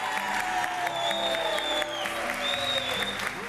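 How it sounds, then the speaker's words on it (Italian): An audience at a televised singing competition applauds, a full, steady roar of clapping with sustained musical tones playing underneath, moderately loud and unbroken. "quindi un applauso a tutti"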